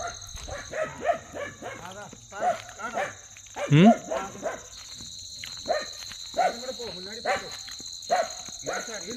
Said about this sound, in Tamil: வைல்டு போர் வந்திருக்கு, அதான் நாய் குலைக்குது.